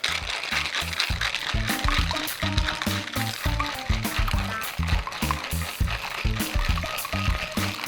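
A cocktail shaker with lid on, holding ingredients for an Apple Pie Old Fashioned including Cointreau, is shaken in a fast, steady rhythm, its rattling and sloshing loud and close throughout.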